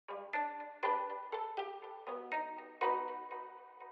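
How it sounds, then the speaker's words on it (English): A Kontakt solo cello preset played pizzicato, with low and high end cut by EQ: a series of about eight plucked notes at an even, moderate pace, each sharp attack ringing briefly, close and clear with no voices. "it's the cello solo preset in pizzicato mode as well"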